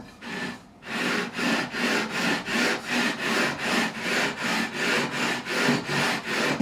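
Stainless steel guitar frets being leveled, a steady back-and-forth abrasive rasping in even rhythmic strokes, close and loud, about a dozen passes with no talk.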